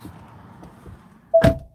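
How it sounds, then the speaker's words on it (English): A VW Arteon car door opens with a single sharp latch clunk and a brief squeak heard from inside the cabin, following a quiet low hum. "I got the door open."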